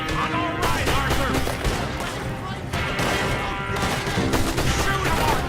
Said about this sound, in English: Shoot him, Arthur, before they blow us to high hell